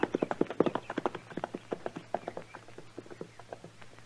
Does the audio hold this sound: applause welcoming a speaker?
no